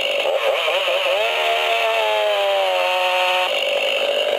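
A repaired Stihl chainsaw engine revs and whines loudly up close, pitch dipping and bending as the chain bites through a piece of wood, then holding steady before it finishes the cut; no talking.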